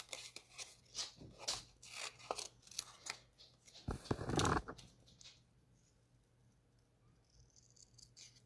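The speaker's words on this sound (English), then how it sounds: "now I'm going to go ahead, cut out my bumblebee" Scissors fussy-cut a paper bumblebee shape for a craft, giving close, quiet snips and paper rustles in an uneven patter, busiest and loudest in the first five seconds before fading to faint handling, with no talking.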